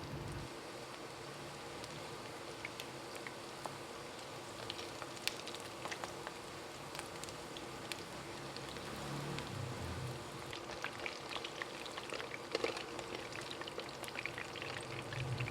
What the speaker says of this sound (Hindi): इसमें हम 1 पीस करके जो है वो चिकन को फ्राई कर लेंगे